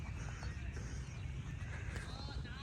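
Horse hooves thudding on an arena surface during a riding lesson, a dense, continuous shuffle of steps under quiet talk, moderately close.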